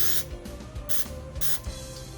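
Cooking spray is sprayed from a can onto small mini baking pans, three short hissing bursts spaced about half a second apart, with faint clicks of the nozzle and pans in between.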